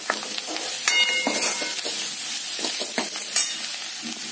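Onions and coriander leaves sautéing in a pan, a steady close sizzle broken by repeated scraping and stirring strokes of a spatula, with no talking.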